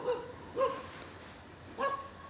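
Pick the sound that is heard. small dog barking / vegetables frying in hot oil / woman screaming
small dog barking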